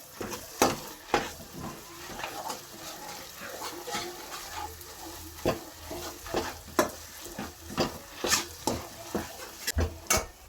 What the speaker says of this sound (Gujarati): હવે એને શેકાવ દેવાનું છે